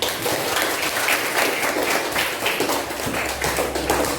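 A classroom of students applauds after a group introduces itself, dense steady clapping filling the whole stretch at close range with no one talking over it.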